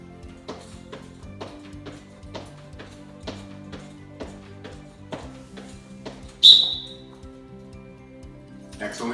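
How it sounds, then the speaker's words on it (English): One short, piercing referee-style whistle blast cuts through a steady background of rapid, regular ticking during a school soccer foot-skills warm-up drill. "Try to respond to the whistle as fast as you can."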